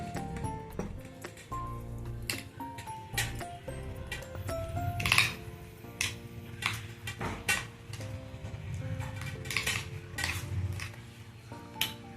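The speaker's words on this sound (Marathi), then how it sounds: "आता दही घालायचं आणि मग सगळं कालवायचं छानपैकी" Close, wet squishing and clinking of a spoon against a bowl as mashed potato is stirred and mashed with curd, in irregular strokes with no voices.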